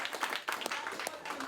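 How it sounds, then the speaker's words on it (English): Brief audience applause at a climate change and environmental legislation side event, a short burst of clapping from a seated crowd at moderate loudness. "They deserve a round of applause"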